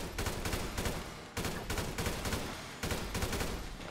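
Assault rifle fire at the Ammu-Nation shooting range in GTA V: three loud, sustained automatic bursts of rapid shots, each cut by a brief pause, with no talking.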